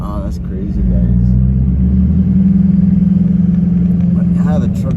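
An LLY Duramax diesel pickup with an AirDog 165 lift pump runs nearby, a loud, steady throbbing idle that swells slightly in level and continues with a pulsing beat throughout.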